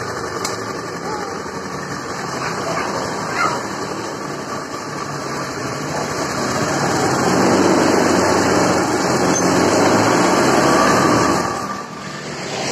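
Honda Scoopy FI motorcycle with white-smoking exhaust and stalling trouble, engine running steadily close by and warm, rising slightly louder for a few seconds as the throttle is opened, then easing back.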